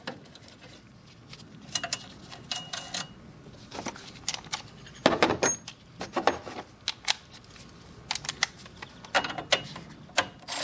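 A hand ratchet clicks in quick bursts while tightening a 10 mm nut on the battery hold-down of a Buick Enclave, with sharp close-up metallic ticks separated by short pauses.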